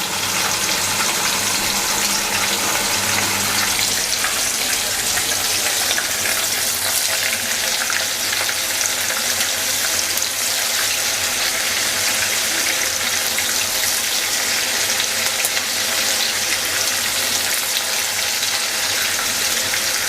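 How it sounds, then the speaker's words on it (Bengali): Small prawn fritters (chingri bora) deep-fry in well-heated oil over a medium flame, a loud, dense and unbroken sizzling roar that holds steady throughout with no voices. "বড়াগুলোর শেপ দেওয়া আছে এগুলো ছেড়ে দিচ্ছি। তেলটা ভালোভাবেই গরম হয়েছে।"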